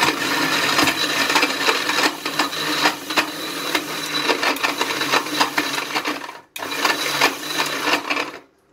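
A kitchen mixer churns a chikoo and date milkshake with ice cubes, a loud, steady grinding rattle of ice against the blades, pausing briefly near the end before a last short burst.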